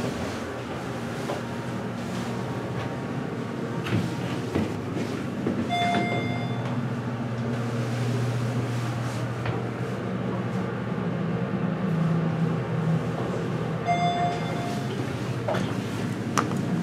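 A Westinghouse hydraulic elevator at a Macy's in Ross Park Mall, Pittsburgh, rides upward with a steady low rumble and hum that runs unbroken throughout. Faint ticks and clicks sit on top, and no one speaks.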